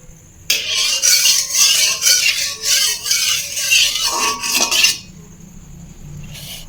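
Rice being mixed by hand or spoon with ghee, turmeric, salt and cumin-ginger paste gives a close, steady scraping and rubbing against a metal bowl for about four seconds, then stops.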